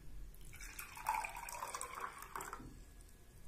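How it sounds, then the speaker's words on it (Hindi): Half a glass of hot water is poured into a container for a home cough remedy, a soft steady pour lasting about two seconds, fairly quiet and close. "ये आधा गिलास पानी मैं इसके अंदर"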